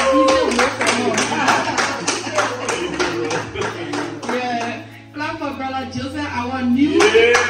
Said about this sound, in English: clap for Brother Joseph